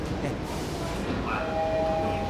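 A Tokyo subway train pulls into the platform with a steady low rumble and a thin tonal whine, moderately close, with a voice speaking over it.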